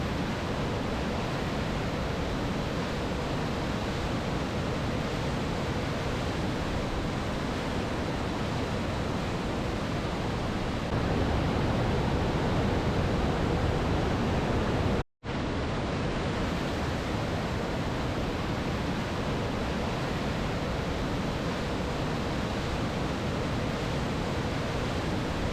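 Roaring waterfall at Si Phan Don in southern Laos, a steady, dense wash of falling water that holds unbroken and loud for the whole stretch, with only a momentary dropout partway through.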